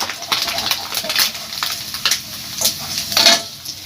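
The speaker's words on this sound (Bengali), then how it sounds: "মাছগুলো দিয়ে দেব অল্প অল্প করেই ভাজবো" Small sea-caught mourala fish sizzle steadily in hot oil, with bursts of crackle and light stirring scrapes recurring through the frying, close and fairly loud with no talk.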